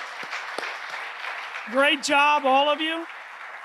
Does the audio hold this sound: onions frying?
no